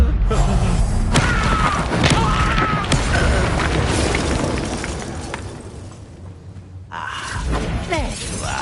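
The Confringo spell explodes in Hogwarts Legacy, a loud, booming blast with shattering debris that swells and fades into a rumbling tail, with voices heard around it.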